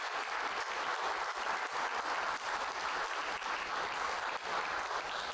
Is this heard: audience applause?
yes